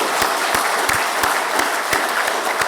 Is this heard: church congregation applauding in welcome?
yes